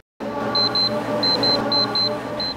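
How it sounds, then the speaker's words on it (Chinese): Phone notification alert at an elderly care facility: a series of short, high electronic beeps in pairs and singles, moderately loud over steady room hum and background noise. "手机里发出的通知显示房间里有长辈需要紧急服务"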